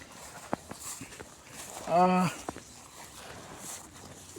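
A pregnant Konkan native cow gives a single short moo, close and clear, amid quiet outdoor pasture background with faint scattered sounds.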